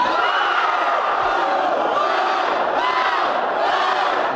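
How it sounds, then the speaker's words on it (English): A town crowd, led by a school spirit squad, chants and cheers together in the roller coaster cheer, the loud massed voices rising and falling in waves without pause. "the Eaton Spirit Squad led the town in a cheer. It's called the roller coaster"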